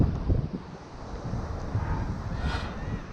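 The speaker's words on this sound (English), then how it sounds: "I think if you're way out there, the wind is gonna be more stronger" Strong wind gusts buffet a microphone outdoors, a loud continuous low rumble that surges and eases, with no voices.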